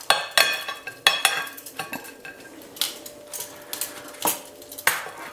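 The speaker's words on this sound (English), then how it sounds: "Get the waffles on the plates." Crispy potato waffles from a cast iron waffle maker being set onto plates, a series of close clinks and clatters of utensils and crockery with a faint sizzle underneath.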